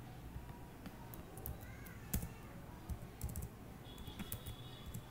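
Quiet keystrokes on a computer keyboard as MATLAB commands are entered, a steady run of soft clicks with occasional sharper taps and a brief faint whine in the background.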